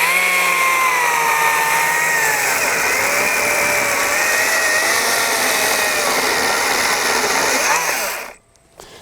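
A cordless chainsaw, a Wild Badger 40V or a Stihl MSA 120 C 36V, runs loud and close with a steady high electric whine, its pitch sagging and rising slightly under load before cutting off abruptly near the end.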